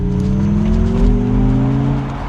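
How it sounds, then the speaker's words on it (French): An MG Cyberster electric roadster's synthetic motor hum drones loudly and steadily up close, with rising tonal whine layered over road and tire noise. "il y a un petit bruit artificiel de moteur, mais on a aussi le bruit de la voiture électrique"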